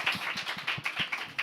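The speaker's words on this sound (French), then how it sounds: "Mais on peut vous applaudir quand même" A small group clapping briefly during a French podcast recording, a short run of close, distinct claps with an irregular rhythm, fairly quiet and without voices.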